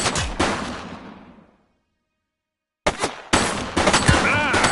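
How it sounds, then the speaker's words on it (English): A suspect opens fire in the police game The Precinct: loud, close bursts of rapid gunshots fade into a brief silence before more shots erupt. "He's shooting!"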